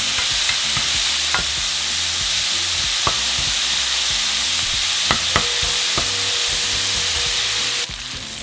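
Onion fries in rendered bacon fat, a loud, dense, continuous sizzle heard up close, with a few faint clicks and stirring taps over it.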